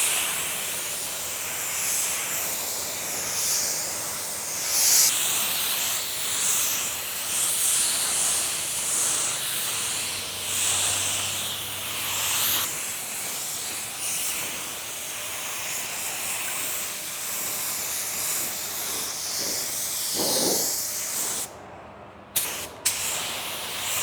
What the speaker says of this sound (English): I'm going to spray this coat on real quick because we're low on paint a little bit.